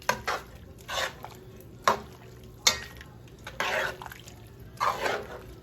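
A spoon stirs meat filling for pasteles in a pan, giving several soft scraping, squelching strokes at irregular intervals, with a few sharper clinks against the metal.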